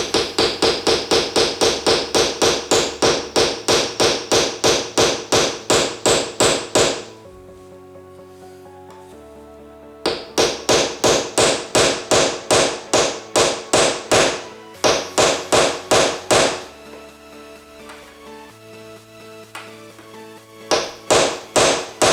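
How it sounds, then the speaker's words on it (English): A hammer strikes a small socket extension to drive small T-nuts into a pinball playfield, giving fast, even runs of sharp, loud, ringing taps in bursts of several seconds, with short pauses between bursts. "got one of those, the smaller T-nuts, and I've just got a little socket set extension and a hammer"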